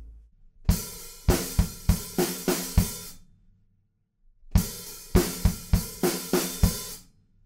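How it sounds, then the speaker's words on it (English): Drum kit playing the fill that leads into the tom section of a song: a quick run of close, punchy hits over about two seconds, then silence, then the same fill played again. "The fill going into the tom bit sounds like this."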